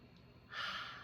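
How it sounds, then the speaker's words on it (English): One slow, deep breath taken during a guided relaxation session, heard as a quiet, close airy rush that swells halfway through and fades gently. "Let's take 3 deep breaths and deeper exhales."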